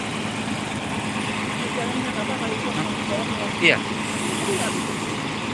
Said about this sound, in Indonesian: Bunyi mesinnya bukan main